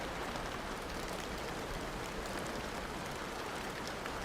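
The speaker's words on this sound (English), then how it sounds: "the only sound being the heavy raindrops, which Aegon could faintly hear drumming awa" Heavy rain drumming on stone, a dense, steady hiss of countless drops holding an even level throughout with no other sounds.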